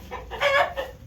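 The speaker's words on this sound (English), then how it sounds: "I hear my rooster Benson outside." A short rooster call rises and falls in a quick burst, fairly close and loud, with no talking.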